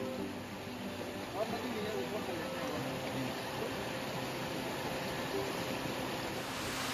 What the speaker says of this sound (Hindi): इस छोटी पर नदी में, जो कि साल भर औसतन सूखी रहती है, पानी का बहाव तेज़ है क्योंकि रात बारिश हुई है